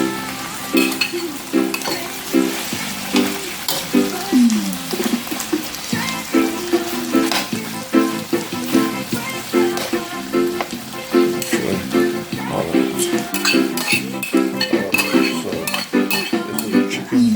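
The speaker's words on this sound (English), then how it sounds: "Stir fry here that I'm working on." Chicken chop suey with tomatoes, scallion and Chinese vegetables stir-frying in a pan, a steady loud sizzle broken by frequent clinks and scrapes of a utensil against the pan, with no talking.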